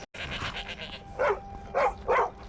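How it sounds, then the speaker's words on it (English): A dog in the video game Skyrim barks three times in quick succession, short mid-range yelps spaced about half a second apart, following a brief stretch of softer ambient game sound. "That's a dog."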